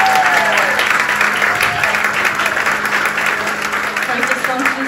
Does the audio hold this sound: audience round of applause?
yes